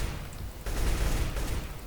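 Rapid gunfire bursts in Counter-Strike: Global Offensive, a dense crackling volley that swells halfway through and holds steady, loud and close for about two seconds.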